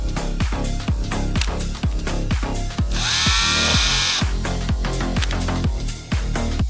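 Chainsaws run in a loud, close, continuous burst, their engines pulsing rapidly and steadily, with a brief harsher, higher whine partway through.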